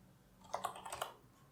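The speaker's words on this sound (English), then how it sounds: "So you can feel the sound of the keyboard." Keys clatter on a computer keyboard in a short, quick burst of about half a second, close and fairly soft against a quiet background.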